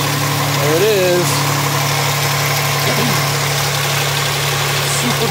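A 2003 Hyundai Santa Fe with a 2.7 liter V6 idles steadily close by, a smooth mid-pitched hum with someone talking over it.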